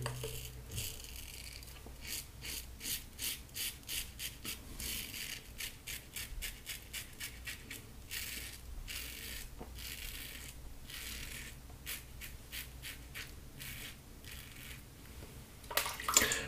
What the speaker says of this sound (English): You kind of get in the groove and you just are shaving.